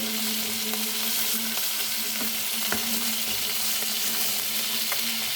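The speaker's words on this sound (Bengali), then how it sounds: "এই যে মাছের মাথা, মাছের মাথা ভাজি, সাথে একটা লেজাও আছে।" A fish head and tail fry in a pan with a steady, dense, close sizzle and faint crackles throughout, under a low constant hum.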